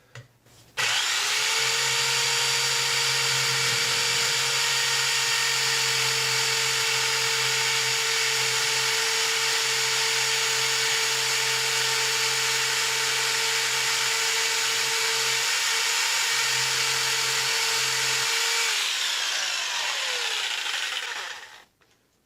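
A power saw rough-cuts the head of a wooden guitar neck, with one long, loud, steady whine close by that holds for about twenty seconds before it winds down and stops.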